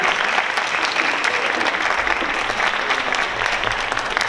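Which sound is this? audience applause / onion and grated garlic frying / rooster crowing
audience applause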